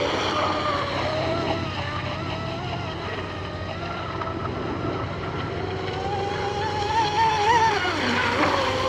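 Carbon fiber P class race boat driven at full throttle, its water-cooled engine a steady high whine with rising and falling pitch over water rush, heard from close by with some talk mixed in.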